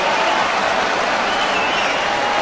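A home football crowd at a Seattle Sounders FC match against New England Revolution roars after a near goal, a broad, sustained wash of stadium noise with scattered clapping.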